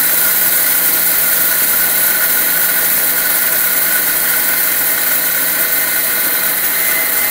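A Miyako kitchen blender with three speeds and a pulse setting whirs continuously at high speed, a loud steady motor drone with a faint whine, running alone without pauses.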